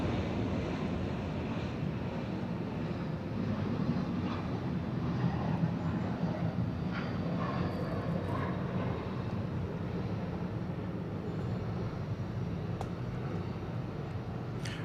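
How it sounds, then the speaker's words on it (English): Steady low broadband roar of an aircraft engine drones throughout, loud and continuous, a plane descending to land at Atlanta airport nearby with wind rumble. "We also have a plane coming in for a landing, as you can hear."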